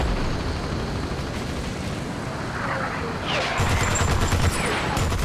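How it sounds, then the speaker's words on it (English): Artillery bombardment in the tank war game Armored Brigade II: a dense rumble of distant shell blasts rolls under continuous noise, then a louder cluster of crackling impacts near the end, with a voice talking over it. "Let's bomb these guys."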